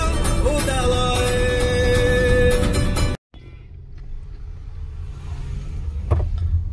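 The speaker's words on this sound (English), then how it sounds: "Traffic jam." Music plays, then cuts abruptly to the low, steady rumble of cars idling and creeping in a traffic jam on a road in the Chechen Republic, with no talk.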